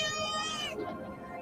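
A cat meowing in a movie trailer, one drawn-out wavering cry that fades into softer background sound, heard close and clear.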